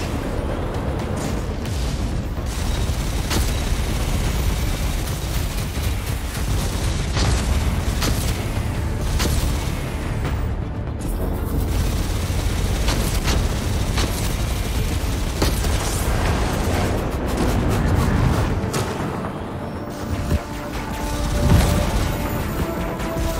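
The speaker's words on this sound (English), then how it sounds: "We're opening barrage fire and keeping them busy." Sustained artillery barrage fire and explosions in the video game Chorus, a dense wall of booming blasts and rumbling impacts layered over one another for the whole stretch, loud and continuous with occasional sharper bursts.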